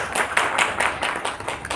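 Audience clapping at a DXN business opportunity meeting, a steady patter of many hands going on throughout, fairly close and even in loudness.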